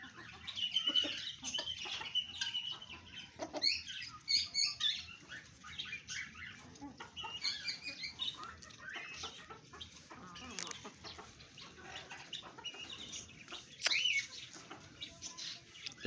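Aseel chickens, a fighting breed kept as breeders at home, cluck and scratch softly while being fed pieces of roti, with scattered pecking taps and small clucks throughout and no speech.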